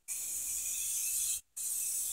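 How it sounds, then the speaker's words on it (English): Two close, steady bursts of aerosol clear coat sprayed onto a spray-paint art painting, a loud airy hiss with a brief pause between blasts. "I'm just going to spray that on our painting."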